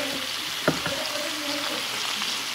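Pre-boiled quinoa sizzles steadily in a hot pan, a continuous close frying hiss with a brief stir or clatter early on.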